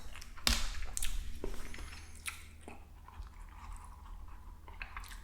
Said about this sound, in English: I'm just sucking on the gummy to make it last.